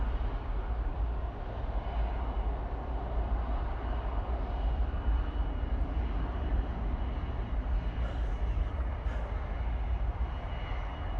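Ryanair jet departing Manchester Airport for Krakow on a windy day, a continuous distant engine rumble mixed with wind, fairly faint and steady.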